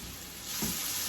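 Bell pepper, celery and onions sizzle in a pan, a quiet, continuous hiss of frying that swells slightly as they are stirred.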